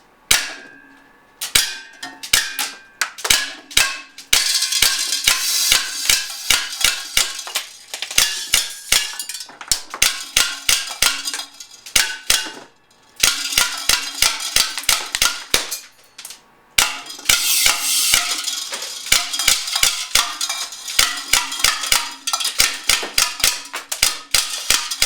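An Umarex Morph 3X 4.5mm CO2 air gun fires a rapid string of sharp snapping shots, each followed by a metallic clang as the pellets strike a can. The shots are loud and close, with brief pauses between bursts.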